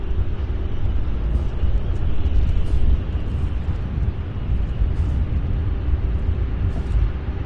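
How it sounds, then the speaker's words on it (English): An MD-11 aircraft taxis at Louisville International Airport, heading toward the end of the runway. A steady broadband jet roar holds throughout, slightly louder at first, with faint intermittent clicks and hiss above it. "this MD-11 on the move"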